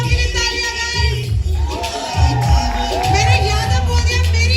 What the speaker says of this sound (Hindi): Rajkumar Rao के लिए तालियां guys